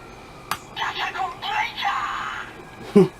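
A short electronic sound effect from a Kamen Rider Ex-Aid DX Gashacon Breaker toy weapon, a warbling, voice-like synthesized tone, framed by a sharp click at the start and a thump at the end.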